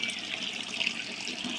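Water trickles and splashes steadily from a homemade solar-powered DIY pond water feature, a soft continuous burble at close range with no voices.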